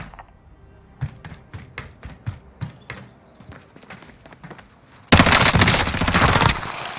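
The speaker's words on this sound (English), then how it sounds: "We're taking fire." Rapid bursts of gunfire from a Call of Duty Rebirth Resurgence match, sharp repeated shots in an irregular rhythm, then a loud sustained blast of noise near the end.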